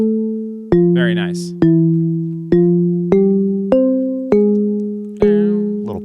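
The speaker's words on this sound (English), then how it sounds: "Little pottery effect in there" A Serum synth pluck repeats in an even rhythm of eight bright, decaying notes at shifting pitches, with a ringing, glassy lid-like clink layered in for a pottery effect; someone speaks briefly near the end.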